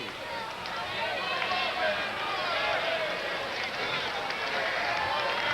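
Steady crowd roar fills a baseball stadium during a 1992 Hawaii–Arizona game, with a tying run at the plate; the dense, even murmur of many voices carries through the whole stretch at moderate distance.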